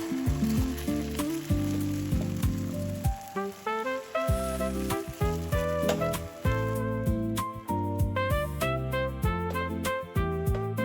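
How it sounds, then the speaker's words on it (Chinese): Beaten egg spreads and fries in a hot wok with a little oil over low heat, giving a bright, even crackle beneath prominent rhythmic background music. "热锅喷洒一点底油，将蛋液铺开倒入锅中"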